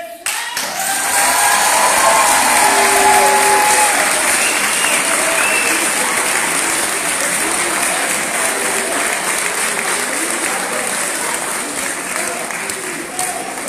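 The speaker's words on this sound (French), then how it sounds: "veuillez encore une fois, pour je ne sais combien de fois de la soirée, faire un tonnerre d'applaudissements à Monsieur Outsiek" A crowd gives a thunderous round of applause at a student debate and eloquence event. The clapping is dense and loud and holds steady for over ten seconds, with voices mixed in beneath it.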